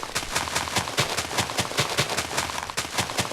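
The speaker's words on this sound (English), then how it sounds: "let's just blow it up some more because I want explosions in this video" Rapid volley of explosions set off in a Minecraft dungeon, a dense string of sharp, evenly spaced blasts about every fifth of a second, loud and close, with no talking.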